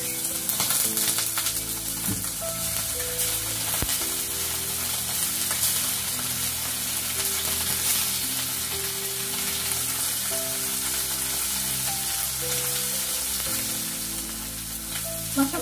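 Small fish sizzle steadily in hot oil in a pan, with a dense, continuous crackling hiss that stays loud and close throughout, with occasional clinks as the fish is turned over.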